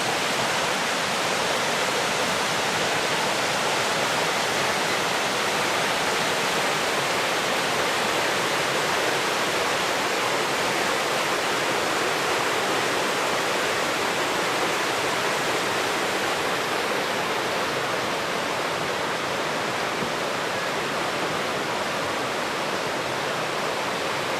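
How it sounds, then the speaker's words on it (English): A stream flows in Vilcabamba, Ecuador, a steady, dense rush of water that stays constant and close for the whole stretch, with no voices over it. "There's some water right there."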